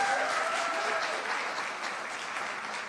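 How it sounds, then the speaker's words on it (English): An audience claps steadily for actress Kriti Sanon at an interview event, a dense wash of applause at even volume throughout, with no distinct voices. "A bigger round of applause, please."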